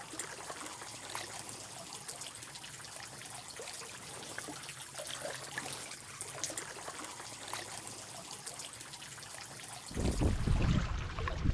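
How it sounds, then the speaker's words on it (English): Water drips and trickles off rocks forming icicles, a faint patter of scattered small drops against a quiet background, followed near the end by a louder, fuller rush of water or movement close by. "Really cool seeing the water just drip off the rocks, forming these icicles."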